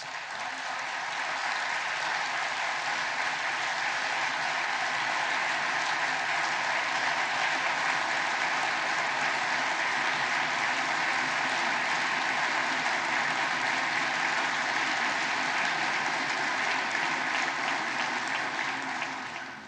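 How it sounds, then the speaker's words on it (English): Sustained, loud applause from a large audience at a joint session of the US Congress, an even roar of many hands clapping continuously for about twenty seconds, no talk over it. "I should tell my colleagues, I don't get that much applause in the Greek parliament."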